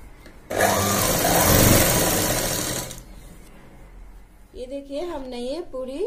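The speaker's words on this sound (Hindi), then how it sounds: "और नीचे पूरे घेर तक सिलाई लगा देंगे।" A sewing machine stitching a gown made from a saree whirs loudly and steadily for about two and a half seconds, then stops, and someone talks afterward.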